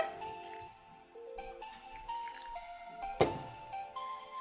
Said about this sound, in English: now we've got some drippage coming out of the bottom of the pot